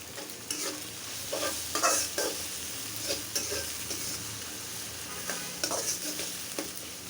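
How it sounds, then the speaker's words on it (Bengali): Onions frying in oil for a rita fish dish sizzle steadily while a spoon stirs them in repeated close scrapes and clinks, with no one speaking. "পেঁয়াজটা দিয়ে দিলাম এখন পেঁয়াজটা একটু ভেজে নিব"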